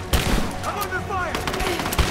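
Rapid gunfire in the video game Rise of the Tomb Raider, a dense burst of shots and impacts layered with game effects, loud and continuous under a voice.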